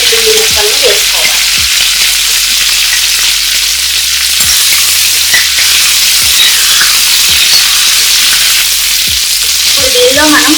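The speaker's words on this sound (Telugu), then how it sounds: "రొయ్యలు ఈ విధంగా వేగిన తర్వాత దీనిలో మనం చిన్న చిన్నగా కట్ చేసి పెట్టుకున్న అల్లం వెల్లుల్లి ముక్కలను వేసుకోవాలి" Prawns with finely chopped ginger and garlic stir-frying for street-style noodles, a loud, continuous close-up sizzle with repeated spatula scrapes and clanks against the pan throughout.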